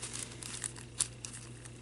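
A decoupage paper napkin is torn by hand, giving soft, close crinkling and ripping in a few short bursts with no one talking.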